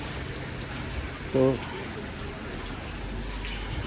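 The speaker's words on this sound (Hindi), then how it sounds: "बारिश भी हो रही" Steady rain patters over a vegetable market in Sydney, Australia, an even hiss throughout, with a man's brief word near the middle.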